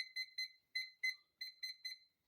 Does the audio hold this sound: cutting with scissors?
no